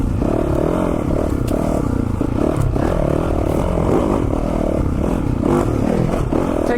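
A 2021 Yamaha YZ450FX dirt bike engine roars steadily on the throttle through a ride, loud and continuous with clattering and scraping from the terrain, no voices.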